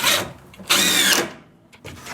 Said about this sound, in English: preventing that as much as I can by pre-drilling it and countersinking it ahead of time